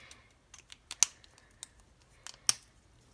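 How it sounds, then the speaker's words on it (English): Scissors snip small paper images in a quick fussy-cutting session, giving a few sharp, close clicks spaced over about three seconds against a quiet room. "I'm going to fussy cut these little images today"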